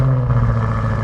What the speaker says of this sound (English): V8 sounds good.